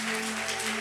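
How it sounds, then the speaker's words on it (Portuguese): A church congregation claps together in a dense, steady burst of applause, loud and continuous, with a low sustained organ or keyboard tone humming underneath. "Vamos aplaudir o Senhor forte, irmão."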